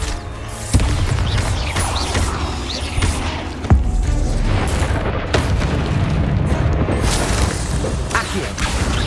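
Bombarda spell explosions in Hogwarts Legacy combat, a loud booming blast near the start and another sharp burst midway, over constant rumbling battle noise and clashing effects.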